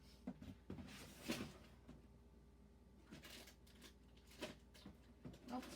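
A kitchen drawer is pulled open and rummaged through in a search for a pastry blender, giving a few sharp wooden knocks and light clattering scrapes at close range, with quiet pauses between them.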